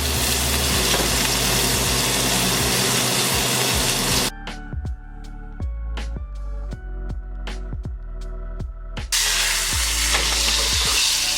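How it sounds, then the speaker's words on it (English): Shallots, thyme, garlic, rosemary and bay leaves sizzle loudly in butter in a steak pan, a dense steady hiss that gives way midway to a run of sharp utensil taps before the full sizzle returns. "I got shallots, thyme, garlic, rosemary, bay leaves. Throw that in the butter."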